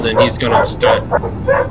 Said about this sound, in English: Why did you make your alarm a barking dog?